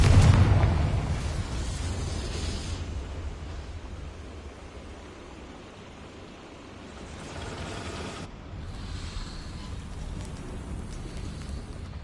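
A Confringo explosion spell in Hogwarts Legacy opens with a heavy low boom that decays into a long, even hiss of rushing noise. A couple of later swells rise and fall, and there is no talk.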